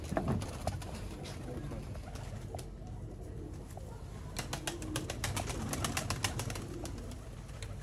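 Shy (sharmeela) breed pigeons, a pure female among them, cooing softly with scattered wing flutters and rustling in a loft, under a steady background hum.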